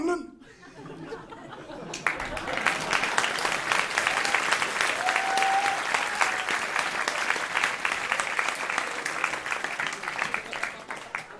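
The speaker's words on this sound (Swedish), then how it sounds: "Efter de närmast ovationsartade applåderna" An audience breaks into sustained, near-ovation applause in a dense wall of clapping that begins abruptly and stays loud, mixed with some laughter after a brief quieter opening.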